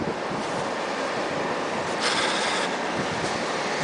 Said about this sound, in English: The waves are still crashing above the wall.